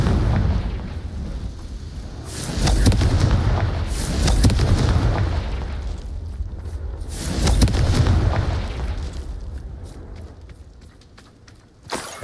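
Confringo blasting spells exploding in Hogwarts Legacy, several deep booming blasts in succession, each with a long rumbling tail, loud and close, with no talking.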